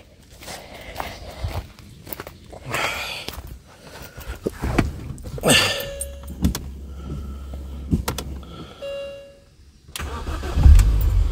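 A MINI R50 engine cranks and catches in a garage-like space, with clicks and footsteps first, then a loud low rumble settling into a steady idle near the end, no talk over it.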